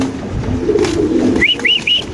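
White Bombay pigeons coo over a low, steady murmur at a market, with a few short rising-falling calls close by near the end.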